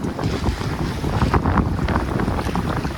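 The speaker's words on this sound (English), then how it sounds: "The wind has increased a little bit, and that's the reason we had to reef the main and take down the staysail." Strong wind roars steadily over a sailboat under a reefed mainsail and a high-cut Yankee headsail on the bowsprit, with buffeting gusts, rushing water and hull noise mixed in, loud and continuous throughout.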